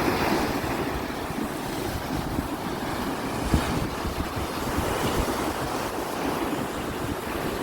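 Continuous roar of sea waves breaking and washing against rocks on a winter beach in Sardinia, steady and fairly loud with wind buffeting the microphone throughout.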